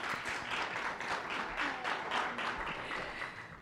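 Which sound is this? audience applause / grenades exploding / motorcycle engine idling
audience applause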